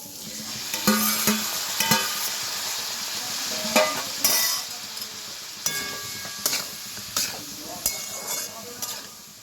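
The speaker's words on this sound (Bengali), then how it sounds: "এবার আমি সেদ্ধ করে রাখা কড়াইশুঁটিটাকেও দিয়ে দেবো" Boiled green peas are tossed into vegetables frying in a pan for Bengali veg dal, with a steady sizzle broken by repeated spatula scrapes and clinks against the pan.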